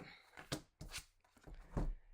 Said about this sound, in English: So let's do another shuffle here.